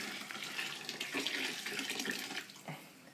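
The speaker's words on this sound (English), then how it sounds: "just throwing the sparge water in here" Hot sparge water at about 170 degrees pours into a homebrew beer vessel with a soft, uneven splashing trickle. The sound stays quiet and close for a few seconds.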